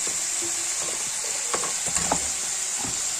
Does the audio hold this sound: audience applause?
no